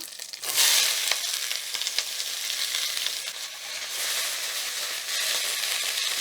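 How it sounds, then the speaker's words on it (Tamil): Onions sautéing in a pan for pepper mutton gravy, a continuous close sizzle with a few stirring scrapes, no talk. "வெங்காயம் கொஞ்சம் நல்லா வதங்கட்டும்."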